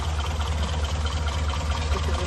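A 1962 Morris 1000 Saloon engine idles in lovely clean condition, a steady low ticking drone held close and even throughout, with a voice faintly present.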